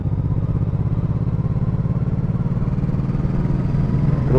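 Motorcycles on a road in Croatia, a loud, close pulsing engine drone that holds steady and swells slightly near the end, no voices over it.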